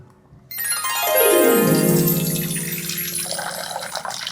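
Water from boiled Egyptian instant noodles pours out into a sink, a steady rushing gush that swells quickly, then settles into a continuous splashing flow that runs on to the end.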